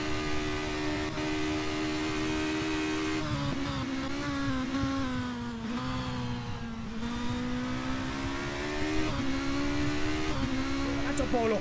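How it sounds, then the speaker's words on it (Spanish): Nova Racing single-seater engine in a sim racing game, a steady high-pitched roar with rising and falling revs throughout, loud and continuous, with a commentator talking over it. "Así ruge el motor de Nova Racing."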